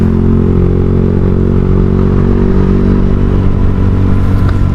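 A loud, throaty Kenziro aftermarket exhaust on a Honda Vario 150 motorcycle drones steadily at close range while riding, rumbling with a rough, clattering edge and no break in the sound.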